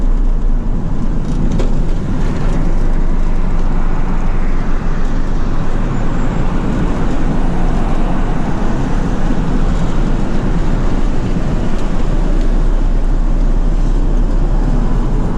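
A truck drives along the Glen Highway near a stopped tow truck, giving a steady, unbroken roar of engine and tire noise on the road that holds at the same loudness throughout, with no voices.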